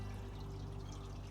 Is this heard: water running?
yes